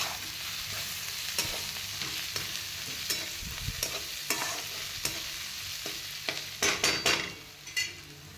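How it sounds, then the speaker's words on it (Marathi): Green chillies sautéing in a hot pan, with a steady sizzle and sharp clicks and scrapes from stirring that bunch into a louder flurry near the end. No one speaks. "मस्त मिरची टाकून घेऊन परतून घ्यायची मिरची पण"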